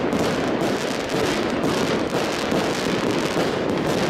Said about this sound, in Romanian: Bă, artificii.